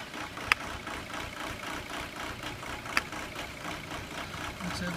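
A 2002 VW Jetta TDI diesel engine idles roughly with an injection quantity fault, a steady close mechanical drone with two sharp ticks standing out, no talking.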